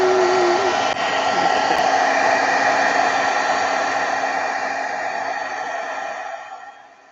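A heat tool blows continuously to dry embossing powder on a handmade card, a loud steady whirring hiss that holds for several seconds and then fades as it is switched off.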